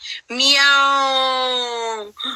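A person imitates a cat's meow with a single long, drawn-out, tonal vocal meow, loud and close, framed by brief speech at either end.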